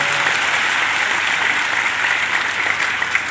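Sustained, dense audience applause fills a church revival meeting in Papua, a steady loud wash of many hands clapping throughout with no break.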